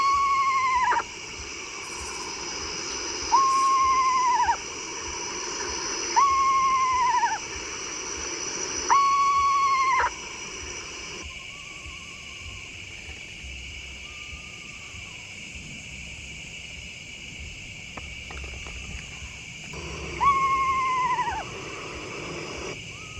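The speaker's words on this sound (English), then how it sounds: "I got a little bit of screech owl sounds going here." Screech owls call in a front-yard neighborhood, giving repeated descending whinnying trills in regular bursts, close and clear, with fainter answering calls in the gaps and a steady insect-like hiss behind them.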